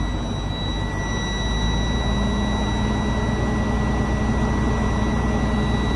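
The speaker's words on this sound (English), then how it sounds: "I run my engine at 1200." A class 3 truck's diesel engine holds a steady 1200 rpm during an air brake check, a constant loud rumble with a high whine over it and no talk.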